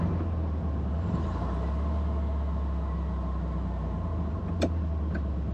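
A Porsche 356 Speedster on the move gives a steady, close engine drone with a low rumble throughout, plus a single brief click near the end. No voices are heard.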